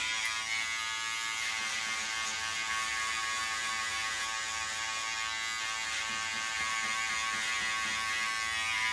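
An electric hair clipper buzzes steadily during a haircut, a close, continuous high-pitched hum with slight variations as it cuts through hair.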